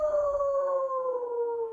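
A person imitates a howl with their voice, producing one sustained, slowly falling tone close to the microphone.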